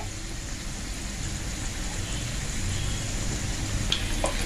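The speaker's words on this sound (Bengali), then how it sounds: "দেখুন এরকম লাল লাল করে ভেজে নেবেন" Soft, even sizzling of Maggi noodle pakoras frying in hot oil, a constant crackle at low level with a couple of faint clinks near the end.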